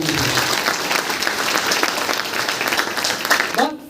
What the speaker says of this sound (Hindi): डीएक्शन के लिए जोरदार ताली।